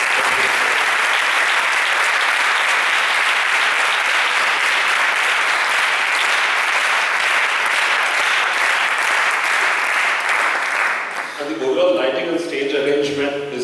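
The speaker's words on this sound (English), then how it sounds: "good round of applause to them" Sustained, loud applause from a large audience at an orchestra competition, steady dense clapping for over ten seconds before it fades as a voice begins speaking.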